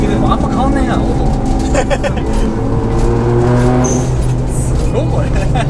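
A turbocharged Suzuki Alto HA23V kei van engine drones steadily from inside the cabin while driving, with a rising and falling whine under ongoing conversation.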